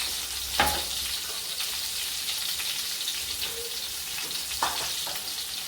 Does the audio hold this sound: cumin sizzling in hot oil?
yes